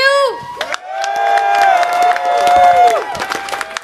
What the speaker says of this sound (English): let's give one more cheer